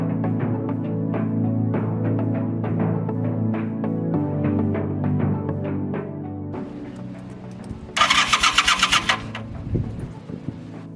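A 36-year-old motorcycle engine turns over on a spare battery, the starter cranking steadily for several seconds before a short, sharp burst of rattling clatter near the end, close and fairly loud.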